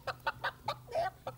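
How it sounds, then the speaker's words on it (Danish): A hen clucks in a quick series of short, quiet clucks, about six in under two seconds, with one drawn-out note near the end. "Er det ikke en høns? En høne."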